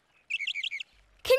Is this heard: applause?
no